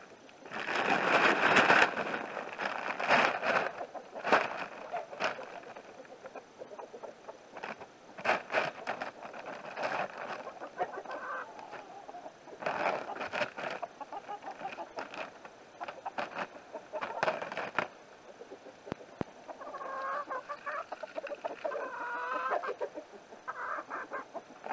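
Chickens clucking inside a backyard coop, close and continuous with overlapping calls and occasional louder squawks, plus brief scuffling at feeding time.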